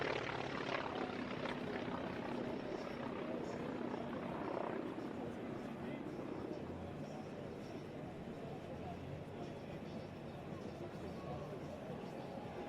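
Wright Cyclone R1820-89B nine-cylinder radial engine, rated at 1,425 horsepower, powers an airshow plane at an Air Force base, droning loud and continuous throughout with a steady rumble and crowd noise beneath.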